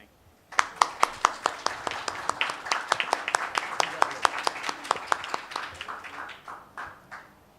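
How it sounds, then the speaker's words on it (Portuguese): An audience applauds an ambassador at an academic evening session. Sharp claps start suddenly, stay lively and dense with distinct individual hand strikes, then thin out and fade over the final seconds. "nosso aplauso ao embaixador e a esta casa por tê-lo convidado e recebido"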